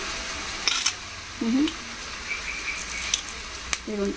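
Garlic chili fry sizzling in a pan as salt and curry leaves go in, a steady hiss of frying with a few light spoon scrapes and taps, close and even throughout.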